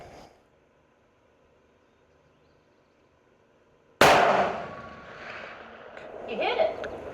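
A single sharp report from a CVA Endura Pro muzzleloader rifle firing a 285 grain bullet at long range, a sudden loud crack after several seconds of near silence, followed by a rolling echo.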